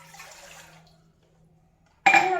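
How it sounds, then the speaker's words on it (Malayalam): A cup of water is poured into a pan for noodles: a faint hiss fades to near silence, then a sudden loud, steady splashing pour begins close by, with no talk. "ഇനി നമുക്ക് ഒരു കപ്പ് വെള്ളം ഒഴിച്ചു കൊടുക്കാം."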